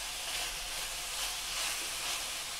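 Meat searing for goulash in a cast-iron Dutch oven, a steady loud hiss and sizzle filling the whole stretch without pause, with no talking over it.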